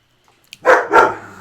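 A dog barks twice at a visitor at the door, two loud close barks in quick succession after a few faint clicks in an otherwise quiet room.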